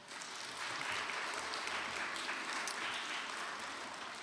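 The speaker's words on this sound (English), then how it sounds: "A round of applause." A chapel congregation at an 8th-grade service claps in steady, even applause that fills the room for several seconds without a break.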